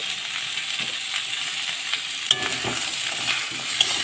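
Potatoes stir-frying with turmeric in a vegetarian dish, a steady close oil sizzle with spatula scrapes and a few sharp clinks against the pan, with no voices.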